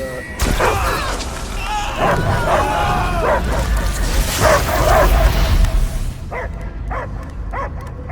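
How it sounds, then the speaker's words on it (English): Repeated dog barks and yelps over a busy, loud Marvel's Guardians of the Galaxy game soundtrack with booming effects and voices, ending in a few sharper barks alone. "I hear only barking."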